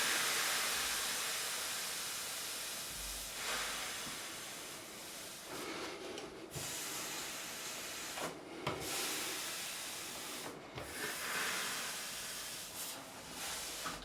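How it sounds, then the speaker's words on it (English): Steam hisses continuously and broadly while heat loosens the stuck truss rod from a Warwick Streamer LX bass neck, a steady close rush with brief pauses and small clicks of work. "So you've really got to get some steam in there."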